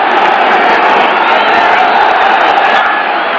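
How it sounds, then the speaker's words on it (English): Dense, continuous roar of a large stadium crowd cheering at a 1981 NFL game between the Green Bay Packers and New York Jets at Shea Stadium, loud and sustained throughout with no clear break. "this tremendous emotional crowd here at Shea Stadium, and Dickey brings them up."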